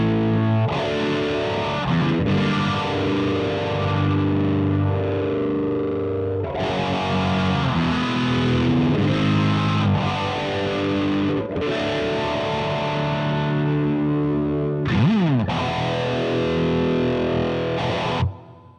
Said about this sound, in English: maybe a simple phase